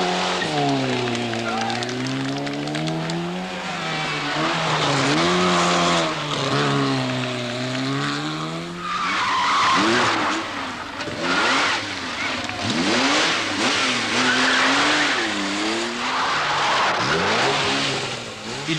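A 1981 rally car drives a hairpin bend between Le Broc and Gourdon, its engine rising and falling through the gears before tyres skid and scrub as the handbrake swings it round, loud and close, with a narrator talking over it.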